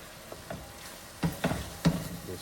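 Ackee and salted codfish stirred and folded in a frying pan, a Jamaican dish: a few soft scraping strokes of the spoon over a quiet, steady sizzle.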